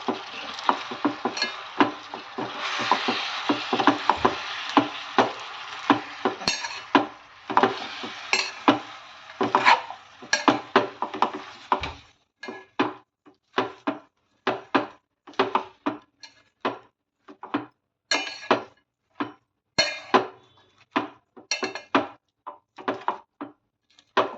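Spinach is stirred as it fries in a pan. A sizzle runs under the first half, and then sharp spatula scrapes and clinks against the pan continue in a quick, irregular rhythm, close by with no talking.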